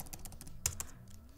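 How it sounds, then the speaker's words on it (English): Rapid light clicks typing on a Logitech Combo Touch keyboard case for an iPad Pro, a quick, uneven rhythm, close and fairly quiet, with one slightly louder keystroke. "This is me typing on the new"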